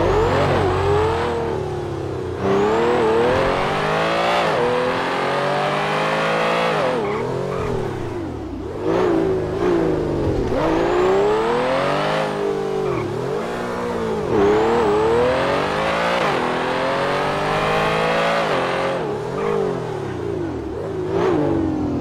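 A car engine in the GTA video game, driven around the block, revs and accelerates repeatedly with rising pitch sweeps and occasional tire squeal, loud and continuous with no talking.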